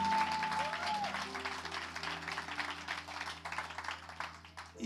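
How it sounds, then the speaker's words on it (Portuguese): Congregation clapping during a church service, a moderate wash of applause mixed with a held tone and some voices underneath, fading out near the end. "Quem entendeu pode aplaudir."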